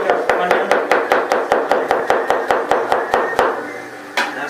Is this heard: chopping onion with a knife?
yes